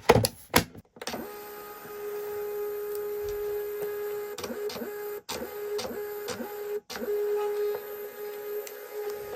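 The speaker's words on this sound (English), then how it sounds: "Just loading the printer." A thermal label printer feeds and prints 4x6 shipping labels for a small candle business, giving a steady whirring hum broken by repeated short mechanical clicks and brief pauses between labels.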